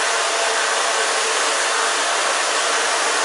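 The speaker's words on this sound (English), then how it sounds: "now we are going to dry her" A hair dryer blows steadily across long hair during a haircut, with a loud, continuous, even whoosh that holds without a break and no talking.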